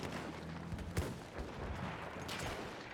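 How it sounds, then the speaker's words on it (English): Gunfire in the video game Battlefield 1, a dense run of overlapping shots and bursts with one sharp louder crack, set against busy battlefield noise. "I'm getting shot. I'm getting shot. Gunfire!"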